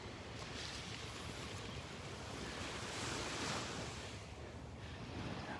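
Ocean surf rolling onto a Gulf of Mexico beach in North Naples, Florida, a broad continuous wash of waves mixed with wind buffeting the microphone, swelling slightly midway, no voices.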